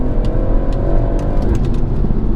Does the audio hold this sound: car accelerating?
yes